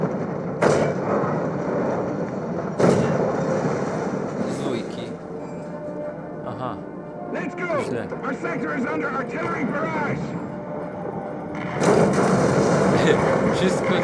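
Tank cannon fire and an ammunition explosion in War Thunder ground battles, several heavy booming shots spread across the scene over rumbling engine noise, with someone talking between the blasts.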